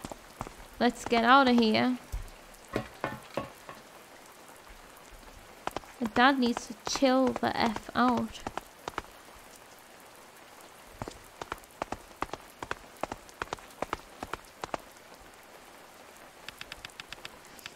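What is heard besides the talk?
rain falling, from video game A Space for the Unbound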